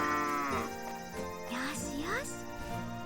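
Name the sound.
cow mooing in video game Story of Seasons: Grand Bazaar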